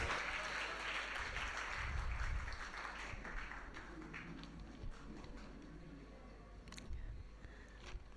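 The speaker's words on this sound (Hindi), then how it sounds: "मदर्स ग्रुप के लिए जोरदार ताली बजाएंगे।" A church congregation applauds the mothers' group during a special Christmas Friday service in Bhopal, with steady room-filling clapping that is loudest at the start and slowly thins out over several seconds.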